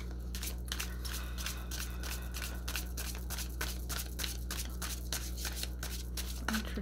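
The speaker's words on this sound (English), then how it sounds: "Interesting shuffle." A deck of tarot cards is shuffled during a reading, giving steady rapid riffling and slapping card sounds that run throughout at a close, moderate level, with no talking.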